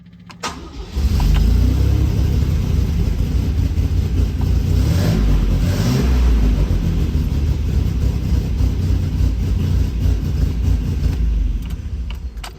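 An MGC GT classic car engine turns over with the choke out and catches after a second, then runs loud and rumbling at a steady idle, close by.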